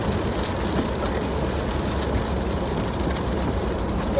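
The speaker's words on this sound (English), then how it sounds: "it had to rain the day of the concert" Rain falls steadily outdoors on a concert day, a dense, unbroken hiss of drops at a constant loudness with no voices.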